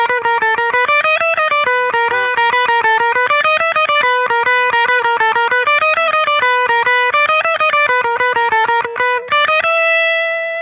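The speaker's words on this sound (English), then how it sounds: "playing softly through the blues pedal cleans up quite nicely" An electric guitar through a blues overdrive pedal plays a steady run of picked notes with mild crunch and a sustained final chord ringing out, no talking.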